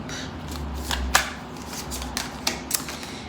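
A deck of tarot cards is shuffled up close, with a few sharp riffling snaps and soft card slides over a low background rumble, no voice heard.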